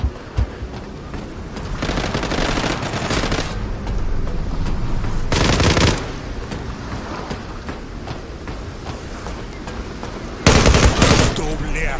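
Rapid gunfire rattles in the video game Zula, with bursts of automatic shots and sharper single cracks against a constant game backdrop, while a voice talks over the action.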